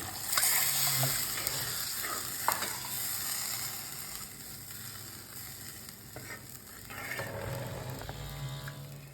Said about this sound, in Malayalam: ഇനി നമ്മൾ ഇതിൽ അരക്കപ്പ് വെള്ളം കൂടി ഒഴിച്ചു കൊടുക്കുകയാണ്